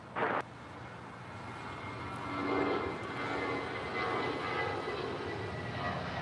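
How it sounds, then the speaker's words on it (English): An Atlas Air Boeing 747-400 lights up its jet engines at LAX, giving a steady, building broadband roar after a brief initial burst, heard from a distance across the airfield. "747-400 lighting up. This is the old Atlas Air livery."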